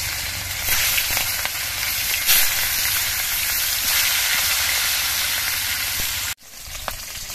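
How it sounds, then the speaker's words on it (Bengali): Four pieces of katla fish frying in hot mustard oil in a wok, giving a loud, continuous close sizzle that cuts off abruptly near the end and then resumes more quietly. "এবার এই 4 পিস মাছই আমি একসঙ্গে দিয়ে ভেজে নেব।"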